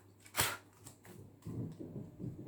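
A deck of Rocky Horror Picture Show character oracle cards is shuffled up close, opening with a sharp riffle burst and followed by softer, rapid papery rustling.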